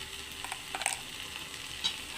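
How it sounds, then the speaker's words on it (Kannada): Oyster sukka masala, a coastal Karnataka dish, being stirred in a pan: a soft, continuous sizzle with light scraping strokes of the spoon, faint and close, with no voices. "ನೀಟಾಗಿ ಒಂದು ಸಲ ಮಿಕ್ಸ್ ಮಾಡ್ಕೊಳ್ಳುವ"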